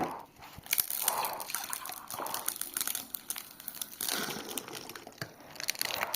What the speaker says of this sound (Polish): Nalewanko.